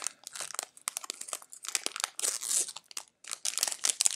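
A knife slices open the crinkly wrapper of a 2020 Mosaic Football cello trading card pack, making a close, busy run of plastic rustling and tearing with a brief pause near the end.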